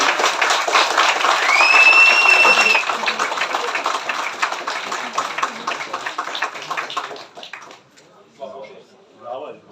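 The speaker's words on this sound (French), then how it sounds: "On peut les applaudir." Crowd at a carp fishing competition prize-giving claps for the winning team, a loud burst of applause that thins and fades, with people talking over and after it.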